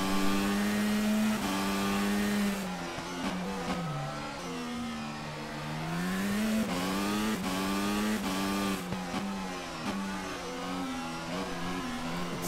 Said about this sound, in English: This is quite a silent engine.